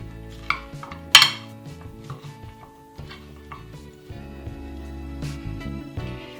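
Chopped vegetables are tossed with flour in a dish, giving clinks and clatter of utensil against the bowl, with a sharp knock early on and softer rattling and scraping afterward. Nobody speaks.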